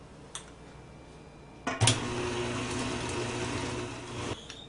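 Water pours steadily into a bowl of gluten-free, dairy-free chocolate cake batter, a continuous close splashing stream lasting a few seconds after a couple of faint clinks.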